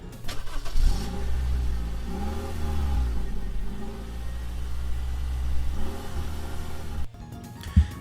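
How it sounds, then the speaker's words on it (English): A car engine cranks and turns over, then revs up and down several times, loud and close, before cutting off near the end. "the sound effect of a car starting"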